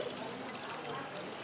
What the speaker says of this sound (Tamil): சொருவிட்டோமா தண்ணியை திறந்து விட்றோம்.